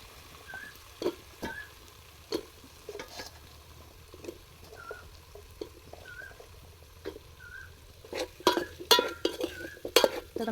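Spoon stirring and scraping pieces of Gujarati dhokla with fried green chillies in a hot pan, irregular close clinks and scrapes over a faint sizzle, growing busier and louder toward the end.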